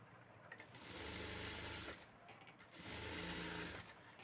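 A sewing machine stitches silver piping onto a lined blouse in two steady whirring bursts of roughly a second each, separated by a short pause, close and fairly quiet.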